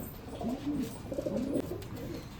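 Pigeons coo softly at a loft in Bangalore, low rolling calls repeating a few times, fairly close but not loud, over a steady background hum.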